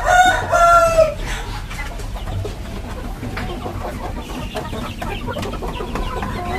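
A rooster crows loudly at the start, then free-range village laying hens and Bangkok chickens cluck steadily in a backyard coop holding around thirty birds.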